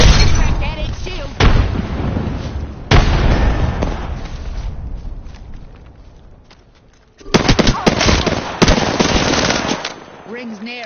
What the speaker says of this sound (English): Chuck in a frag.